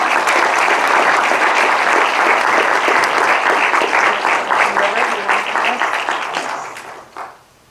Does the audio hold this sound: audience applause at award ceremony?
yes